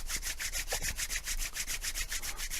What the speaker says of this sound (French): Puis on va frotter les mains pour activer le chi dans les mains.